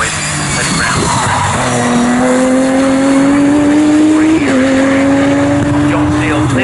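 GT race cars, a Ferrari and a Lamborghini, screaming past at a race finish line, loud engine whine rising in pitch with a gear shift, tyre noise and crowd-level ambience, close and sustained.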